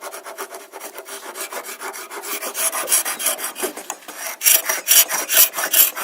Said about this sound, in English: Now we'll get the scraper.